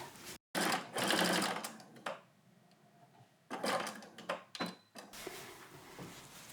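A sewing machine top-stitches the ends of a folded fabric strip for a hanging tea towel holder, running in two short close bursts separated by quiet pauses.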